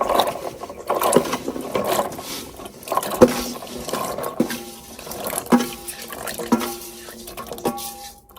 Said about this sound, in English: I'm just going to pour that away and clean them again